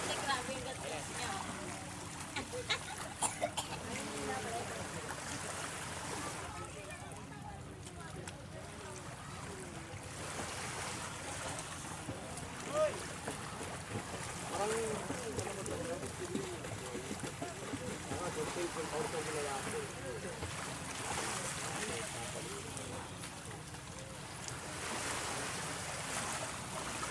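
Ocean waves wash and rush continuously in the background, a broad steady roar with occasional swells, fairly soft, while people chat nearby.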